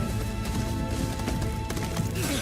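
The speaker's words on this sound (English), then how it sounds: "Beautiful horse." Video game horse hooves clatter in a quick clip-clop alongside a brief whinny, set within a dense, steady wash of game music and ambient sound.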